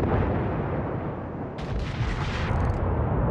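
Heavy naval guns boom in a dense, continuous barrage in a warship video game, firing at an enemy ship, with a brief sharper crackle of shots partway through; loud and close throughout, with no voices.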